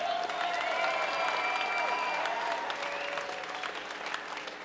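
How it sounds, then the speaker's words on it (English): Sustained crowd applause and clapping at a women's 110-pound MMA fight at Chosen Few Fighting Championships, steady and dense throughout, fading slightly toward the end. "one more round of applause for a great fight"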